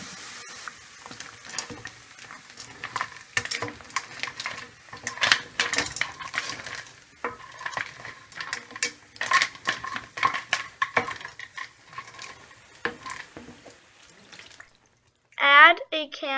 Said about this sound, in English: Now it's time to add the snails.